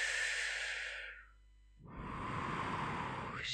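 Slow breaths during a guided meditation: a long, airy exhale fades into a pause, then a steady, close inhale rises, soft and unhurried with no talking.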